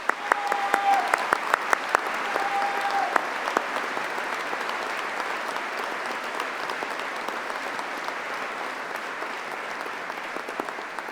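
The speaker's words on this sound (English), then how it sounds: "join me in thanking them with another huge round of applause." A large audience applauds at a university Faculty of Management graduation ceremony, producing dense, steady clapping from many hands that fills the hall and stays even throughout, with a few sharper claps standing out near the start.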